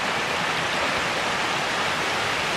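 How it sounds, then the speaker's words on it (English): A rocky mountain creek flowing, giving a steady, dense rush of water that holds an even level throughout, close by and with no voices. "That's about as nice of a creek as you could hope for."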